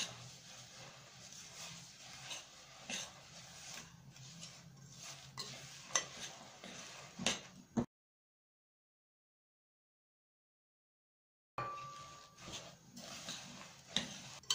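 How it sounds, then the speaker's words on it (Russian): Coconut cookie dough of starch, baking powder and shredded coconut stirred with a spoon in a bowl, with soft scraping and clicking strokes in an irregular rhythm, broken midway by a few seconds of silence. "И смешаю ложкой."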